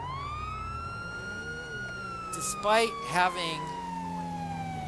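A police car siren from GTA LSPDFR wails in a long, slowly gliding tone close by, continuing under a man's brief speech.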